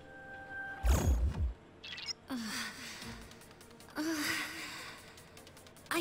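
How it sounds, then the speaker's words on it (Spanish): A character in the PS2 game Persona 3 lets out a few breathy gasps and sighs over quiet game background sounds. "Jadeos múltiples, lo encontré."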